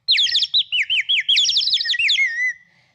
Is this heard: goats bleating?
no